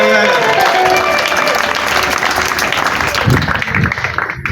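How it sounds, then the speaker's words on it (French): Congregation applauding at a Catholic mass, a loud, dense burst of clapping from many hands that carries on steadily, then thins slightly near the end. "Acclamons pour nous-mêmes."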